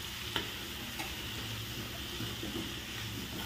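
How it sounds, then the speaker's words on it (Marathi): Prawns and butter stirred together in a hot pan for an Aagri Koli style prawn curry, giving a soft continuous sizzle with a few light utensil taps, close but fairly quiet, with no talking. "त्यानंतर यामध्ये कोलंबी आणि बटर टाकून घ्यायचं आहे आणि आपल्याला मिक्स करून घ्यायचं आहे।"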